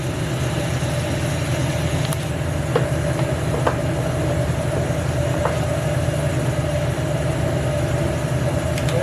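Electrically controlled carriage running along rails for a grinder sled, a steady mechanical hum and rumble throughout with a few faint clicks and knocks, fairly loud and continuous with no voices.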